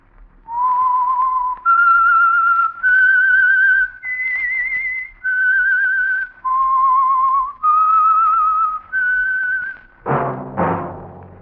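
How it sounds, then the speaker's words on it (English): Theme tune of the radio mystery show The Whistler, sponsored by the Signal Oil Program: a loud, close solo whistle carries a slow melody of about nine sustained notes. It ends with a short, bright musical chord. "That whistle is your signal for the Signal Oil Program, The Whistler"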